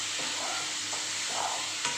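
Telaga pindi pappu is stirred as it fries in a pan: a steady close sizzle with soft scraping strokes of a spoon passing through it, and no voices.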